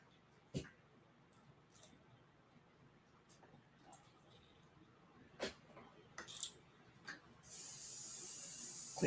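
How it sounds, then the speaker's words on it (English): An airbrush is sprayed out to clean it: faint scattered clicks and short puffs, then a loud, sustained, airy hiss over the last second and a half. "Clean that airbrush"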